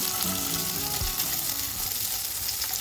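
Boiled kidney beans and corn frying in ghee in a pan, a steady close sizzle that carries on without a break, with faint stirring scrapes.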